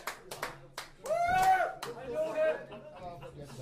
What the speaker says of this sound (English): a big round of applause for all the people who come in to hear music